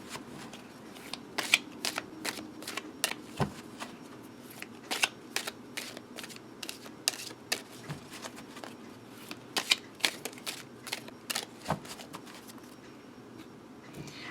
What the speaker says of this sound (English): they're a little thick for a real good rifle shuffle, but I can at least get a couple in there